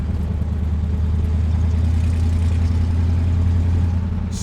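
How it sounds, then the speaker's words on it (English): A 1941 Ford pickup with a rebuilt 302 V8 rumbles steadily through its exhaust, producing a loud, even, low drone throughout with no break. "It's got an exhaust system on it that just sings"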